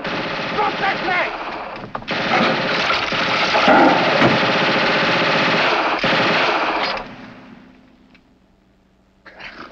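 Machine gun fire in a 1950 Abbott and Costello Foreign Legion comedy: a loud, rapid, sustained burst lasting several seconds, with voices shouting over it, then cutting off and fading into quiet.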